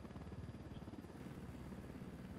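Helicopter rotor in the video game Ghost Recon Wildlands, a steady low throbbing chop that holds throughout at moderate level, with no talk over it.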